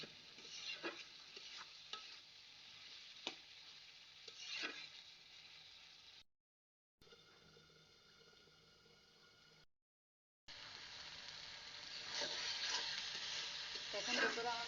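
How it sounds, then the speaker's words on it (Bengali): Spice paste and tomato frying in a pan, with soft sizzling and repeated stirring scrapes, fairly faint, broken by two brief silent gaps, no talk. "টমেটোটা একদম ভালোভাবে মশলা দিয়ে কষাবো"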